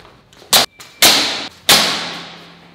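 Three sharp, loud floorball shots spaced about half a second apart, each a hard crack followed by a short fading ring, with no voices.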